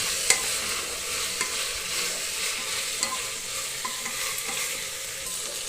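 Okra frying in a pan, a steady hiss of sizzling with occasional soft clicks of stirring, close and continuous with no voices.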